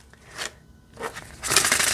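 An oracle card deck being shuffled by hand, with three bursts of crisp riffling and flapping paper, the last one loudest and longest, close by with no talk.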